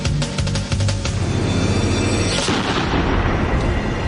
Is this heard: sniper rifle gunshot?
yes